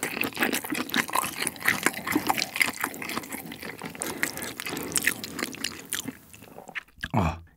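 Close, wet chewing of a mala xiang guo meal continues, then a brief liquid sound of a drink being poured or gulped comes near the end; no talking.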